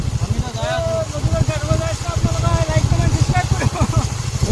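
A motorcycle being ridden in hot weather gives off a low, pulsing engine rumble close by, heard beneath a person talking almost continuously.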